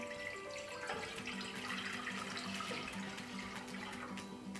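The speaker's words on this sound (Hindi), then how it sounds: "2 कप दूध डाल रही हूँ मैं इसमें।" Two cups of milk are poured into a pan set over a lit stove flame, giving a steady, close liquid splashing and rushing that fills the whole stretch with no talk.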